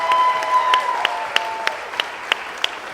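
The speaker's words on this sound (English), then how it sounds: "You can give them a nice round of applause." Applause for police officers, firefighters, EMTs and paramedics on the Adventure of the Seas cruise ship: a short burst of clapping that quickly thins into a few sharp, spaced single claps.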